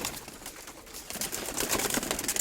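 A young pigeon on a household farm makes soft, close cooing and fluttering sounds in short, uneven bursts that grow a little busier toward the end, with no talking.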